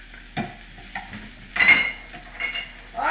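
Chopped vegetables and minced garlic sweating quietly in a pan for Jamaican patties, with a soft sizzle and a few clinks and scrapes of a utensil stirring against the pan.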